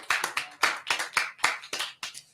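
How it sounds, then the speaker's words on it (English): Audience applause for a chef at a cooking event: several short bursts of hand clapping in an uneven rhythm, close and fairly loud, with no talking. "Give another round of applause for the chef."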